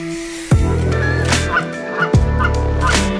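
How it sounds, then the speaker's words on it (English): Canada geese flying in through the trees toward a pond during a hunt, calling loudly and nearby with repeated honks and cackles in irregular bursts. "geese coming through the trees."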